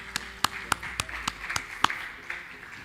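Sparse applause for a panel speaker at a real estate and investment event: about eight distinct, sharp hand claps spaced out unevenly, fairly quiet in a roomy space with little else around them.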